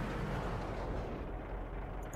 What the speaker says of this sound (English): so I'll just blow him up